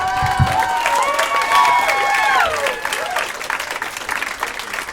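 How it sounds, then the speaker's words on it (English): Sustained audience applause with a voice speaking over it, steady clapping from a large crowd at a comedy club that continues throughout. "Give it up for Holly one more time, guys. Let her hear it."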